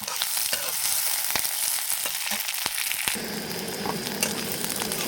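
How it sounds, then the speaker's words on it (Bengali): Chopped onion, ginger and chili sizzle steadily in a hot pan, with occasional sharp clicks and scrapes as the mixture is stirred. "তার মধ্যে আদা কুচি, পেঁয়াজ কুচি, কাঁচা লঙ্কা কুচি দিয়ে ভালো করে ভেজে নেব।"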